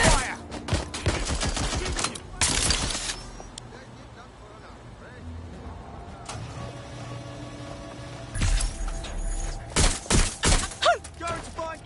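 Gunfire in the Watch Dogs Legion video game, heard as loud bursts of rapid shots clustered at the start and end of the clip, with game voices talking in between.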